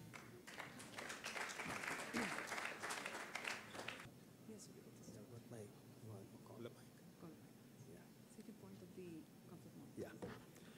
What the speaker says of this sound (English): with a warm round of applause, please help me welcome the Director of Prasanna Trust, Mr. Sriram Atri